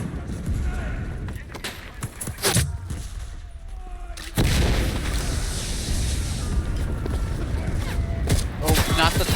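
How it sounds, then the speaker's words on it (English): A phosphorus grenade goes off in a shooting video game, with scattered gunfire and booms, then a sudden heavy blast that leaves a dense roaring, crackling rumble. "Phosphorus grenade."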